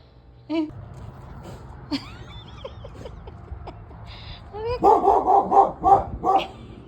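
After a few seconds of faint scattered chirps and clicks, a dog breaks into a quick run of loud, repeated barks.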